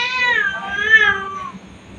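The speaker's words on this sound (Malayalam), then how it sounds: "പൂച്ചേൻ്റെ ശല്യം കണ്ടോ." A cat lets out a close, clear drawn-out meow followed by a second shorter one, fading after about a second and a half against a quiet background.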